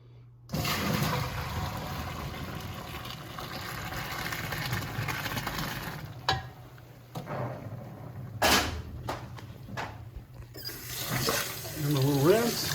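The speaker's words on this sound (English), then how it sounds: "a little rinse." Cooked basil noodles are rinsed under a running kitchen tap, a steady mid-level stream of water with a few sharp clatters and knocks partway through.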